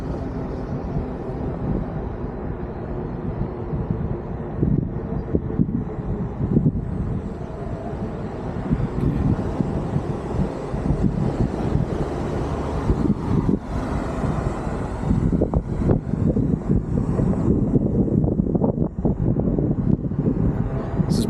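On a windy, sunny day, gusts rumble against the mic on a OneWheel ride around Edina in the Minneapolis area, a heavy continuous low roar that swells a little toward the end, with no speech.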